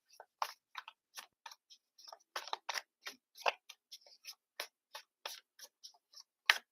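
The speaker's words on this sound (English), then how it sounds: "But I'm still shuffling, which means there's a lot of energy around this." Tarot cards being shuffled by hand at close range, a quiet series of short crisp rustles and snaps coming in irregular bursts with brief gaps between them.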